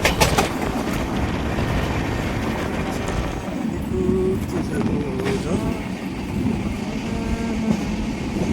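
Train at Pedne railway station, a steady loud rumble and rattle of rail cars with clickety-clack and some tonal squeals running throughout, close by and continuous.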